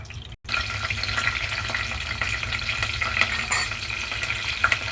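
Green chillies and curry leaves fry in hot oil for an Andhra-style goat trotters curry, a loud, close, steady sizzle that follows a brief drop right at the start.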